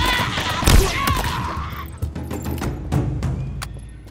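Gunfire from a newly picked-up weapon in the video game Halo Infinite, a loud burst of shots followed by a few scattered sharper cracks amid game effects.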